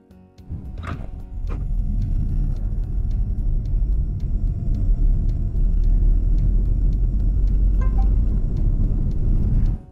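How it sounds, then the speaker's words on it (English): A 2022 Volvo XC40 Recharge electric SUV driving on the road, heard as a steady, loud low rumble of tyre and road noise that builds after a brief start and holds constant, with no voices. "Let's put it in drive and hit the road."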